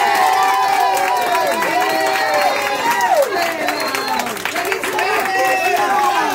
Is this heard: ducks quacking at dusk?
no